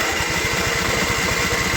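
A John Deere tractor engine with a starting problem chugs close and loud in a fast, even, low rhythm that holds steady throughout, with no voices.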